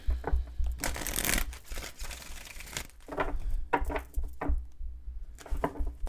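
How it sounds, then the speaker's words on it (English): A deck of cards is shuffled by hand in several brisk riffling bursts, close and crisp, separated by short pauses. "Last shuffle."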